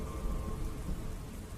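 A thunderstorm rages outside, with steady rain hissing and low rumbles of thunder rolling throughout, a continuous dense wash of sound with no voices.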